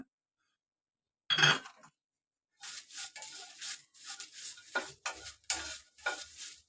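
Whole spices for garam masala dry-roast in a pan, heard as a short rasp and then bursts of stirring and scraping, close and fairly quiet, with silent gaps between.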